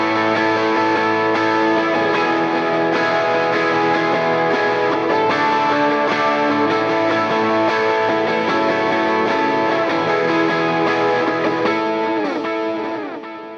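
Electric guitar rings out high chord inversions over open chords played down low, a dense, sustained wash with chorus-like shimmer, loud and continuous with no talking.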